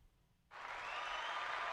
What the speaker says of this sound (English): So I think this one is an applause.